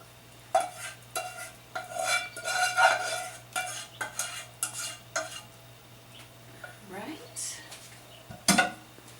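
Yeast liquid is poured into a bowl of dry ingredients for cinnamon roll dough, then stirred with a utensil, giving a series of close clinks, scrapes and knocks against the bowl with short pauses between them.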